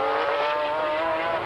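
GT race cars at the 1995 BPR Endurance round at Paul Ricard sweeping past the pits, a loud high-pitched engine wail sliding downward as they go by, close and continuous with no voices.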